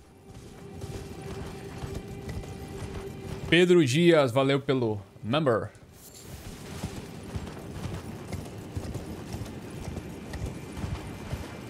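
Horse hooves clip-clop in Elden Ring beneath someone talking over gameplay, with a burst of louder game sound midway and steady ambient noise throughout.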